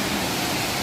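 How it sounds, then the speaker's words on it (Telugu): A waterfall roars as a steady, dense wash of broadband rushing water, close and constant, with no voices over it. "సో బాయ్ చూడండి ఇదే అనమాట వాటర్ ఫాల్"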